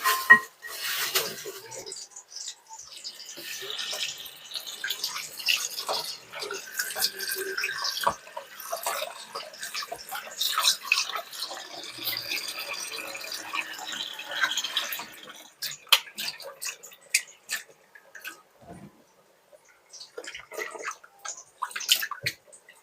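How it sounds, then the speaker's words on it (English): Water runs from a tap and splashes while raw goat meat is washed with lime for Jamaican curry goat, a steady hiss with clattering and sloshing that thins out in the last seconds. "I'm just gonna wash him off with a lime"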